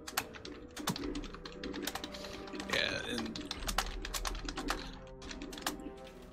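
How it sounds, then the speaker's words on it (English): Rapid typing on a computer keyboard at a tabletop roleplaying session, keys clicking in uneven bursts with a few louder strikes, moderately close and running beneath people talking. "I'm just scared by the DM over there typing"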